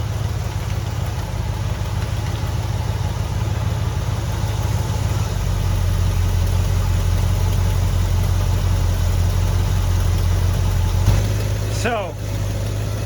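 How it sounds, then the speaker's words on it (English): A 1971 Cutlass engine idles with a steady low drone, joined later by a brief higher whine near the end. "It powers up the alternator, and listen to the engine."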